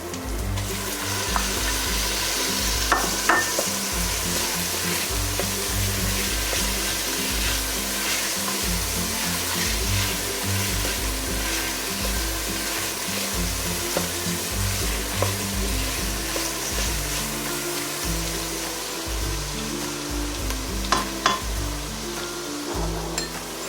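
Tomato added to a frying turkey soup base: steady loud sizzling with rhythmic stirring strokes and occasional clinks of a utensil against the pot throughout.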